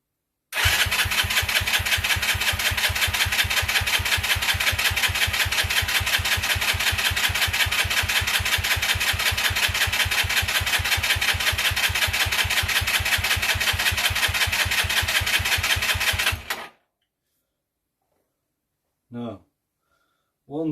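A 50cc dirt bike engine starts and idles, a loud, steady buzzing drone held for about sixteen seconds before cutting off, followed by a couple of brief faint noises.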